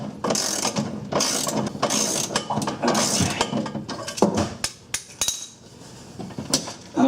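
A stubborn bolt on a Ford Ranger fuel tank being worked loose with a ratchet: bursts of rapid metallic clicking repeat several times, then thin out into sparse, separate clicks and knocks.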